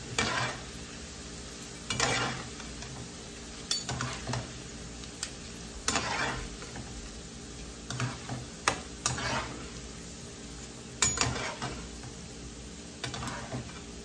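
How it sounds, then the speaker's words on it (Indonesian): Garlic and shallots sauté in oil left over from frying tempeh, a soft steady sizzle punctuated by about a dozen sharp scraping stirs of a utensil against the pan. "Mau tumis bawang putih sama bawang merahnya sama minyak yang tadi kita goreng tempenya."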